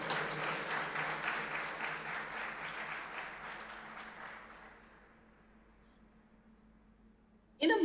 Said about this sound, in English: big round of applause for all of their hard work